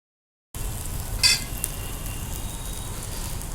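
Fish coated in spicy avakaya mango pickle masala frying in a pan, a steady close sizzle with a brief louder crackle early on, no talking.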